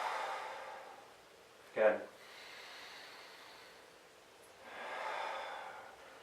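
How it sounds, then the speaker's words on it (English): Slow, audible breaths during a shoulder and thoracic mobility exercise: a soft breathy inhale, a sharp nasal snort, then a longer airy exhale, with a brief spoken word in between. "So I breathe in and exhale"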